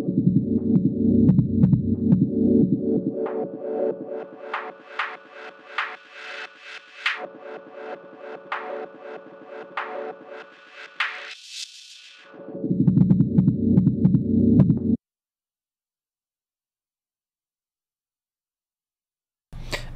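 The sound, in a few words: synthesizer sound through a bandpass filter plugin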